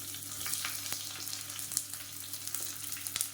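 Small onions sautéing in a pan for a kodo millet dish, a close, steady crackling sizzle with frequent small pops and stirring scrapes.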